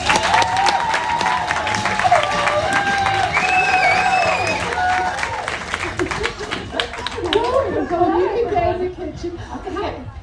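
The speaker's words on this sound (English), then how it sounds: "huge warm round of applause, please" A crowd at a food festival stage in Hylands Park, Chelmsford, breaks into loud, sustained applause and cheering, while an amplified host talks over the clapping and people chatter and laugh nearby.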